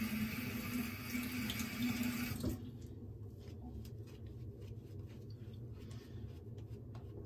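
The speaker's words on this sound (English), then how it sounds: "just gonna add a little more water." Running tap water for lathering shaving soap, a steady close splash for a couple of seconds that cuts off, leaving faint wet squishing and dripping.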